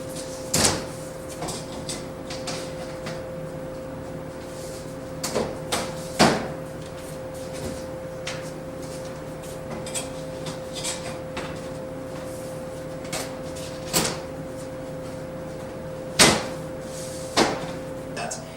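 Sliding doors of an aquarium cabinet stand being fitted into the frame's channels, with a series of sharp knocks and clacks scattered over low steady room hum, close and moderately loud.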